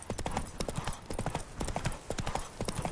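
Hooves of Roach, Geralt's horse in The Witcher 3, in a brisk steady clip-clop of close, crisp footfalls that runs continuously without pause.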